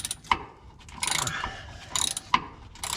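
Ratcheting wrench work on a 9/16 carriage bolt that passes through the frame of a 1981 Corvette, heard as a few sharp metallic clicks and short grinding ratchet bursts, close and fairly loud, with no talking.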